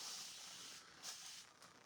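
A spray can hisses faintly in a continuous burst with a brief second puff, soft and airy, with no talking.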